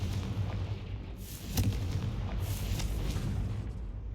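Confringo blasting spell firing in Hogwarts Legacy: a low rumbling boom with a sharp crack near the middle, followed by a sustained roaring blast over a dense, loud game backdrop, with no speech.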